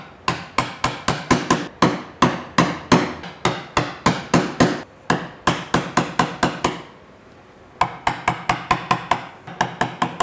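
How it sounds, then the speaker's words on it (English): A wooden mallet tapping a chisel into a mitred dovetail socket, delivering crisp, evenly spaced knocks in quick runs that pause briefly before resuming, close and loud with no talking. "do a few taps down at 90, get it engaged"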